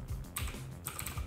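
Quick clicking of keys on a computer keyboard as an effect name is entered during an After Effects session, a short burst of close, light keystrokes with no talking.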